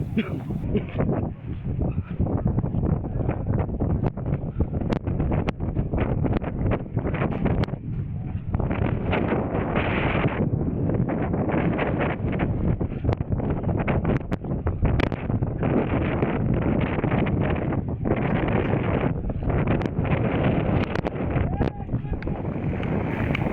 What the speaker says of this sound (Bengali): শেষমেশ অনেক তুফান বাতাস শুরু হয়ে গেল